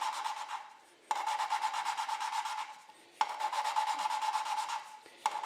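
A Model T Ford engine valve is lapped by hand with a suction cup tool: quiet, gritty rubbing strokes come in close bursts of one to two seconds, separated by brief pauses.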